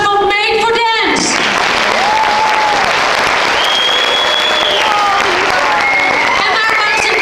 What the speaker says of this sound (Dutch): Applaus voor Made for Dance.